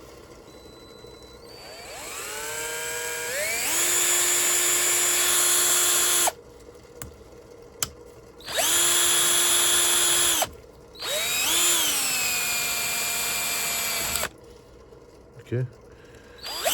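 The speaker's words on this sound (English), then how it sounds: "I'll just drill." A cordless power drill works on a BMW alternator to reach its brushes. It whines up to speed in three separate bursts of several seconds each with short pauses between them, and a voice speaks briefly.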